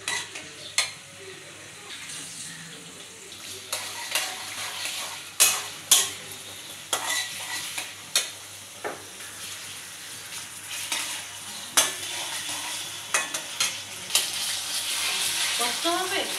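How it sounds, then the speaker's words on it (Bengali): Garlic paste and onion paste fry in hot oil in a pan, giving a steady sizzle broken by sharp clinks and scrapes of a spoon stirring against the pan. "এই রসুন বাটা আর পেঁয়াজ বাটা একসাথে ভেজে নিতে হবে।"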